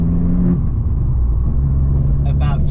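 An Abarth 595 Competizione's 1.4-litre turbo engine, rated at 180 brake horsepower, pulls hard under acceleration with a deep, continuous throaty drone and a brief burbling flutter near the end.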